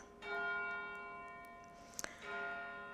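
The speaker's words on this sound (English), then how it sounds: "pay attention to the ringing bell above us that gets our attention" Church bell ringing overhead, clear sustained tolls with long ringing overtones: one strike decays, and a second strike follows after a brief clatter. Fairly faint and heard alone.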